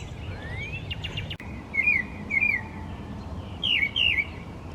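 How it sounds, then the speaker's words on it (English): A bird calls from a tree above a pond in Iroquois Park on a spring morning, giving short, sharp whistled chirps in pairs over soft outdoor ambience. "What is that bird up there?"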